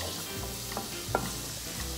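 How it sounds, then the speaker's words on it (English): Chopped onion and red pepper fry in a pan, giving a quiet, steady sizzle broken by a few soft clicks of stirring. "Can you hear it? The sizzling."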